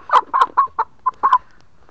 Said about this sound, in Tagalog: Nay manok diri guys nga anad